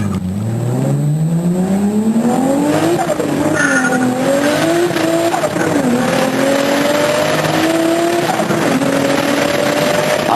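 A car driven hard at a Seafoam party, its engine revving and climbing steadily with tire squeal, loud and continuous for several seconds.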